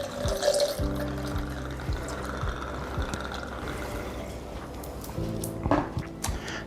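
White rum pours into a jigger or glass for a mojito, a soft, faint trickle of liquid under light background music with small clinks near the start and end.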